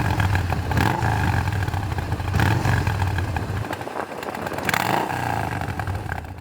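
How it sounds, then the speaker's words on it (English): Yamaha SCR950 motorcycle fitted with an Akrapovic slip-on exhaust in black-coated stainless steel, a steady deep idle with a couple of sharp throttle blips rising and falling, close and fairly loud throughout. "Akrapovic exhaust slip-on muffler"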